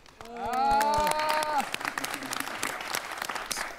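Clapping from a group of trainees after a final evaluation follows a drawn-out vocal sound at the start, then carries on as a scattered, moderately close patter of claps with voices in the background.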